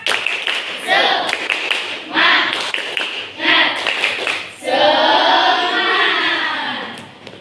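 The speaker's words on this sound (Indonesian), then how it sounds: "biar semangat. Tepuk semangat." Classroom students clap together in a quick rhythmic pattern, loud and near, in several bursts and then a longer sustained stretch of clapping.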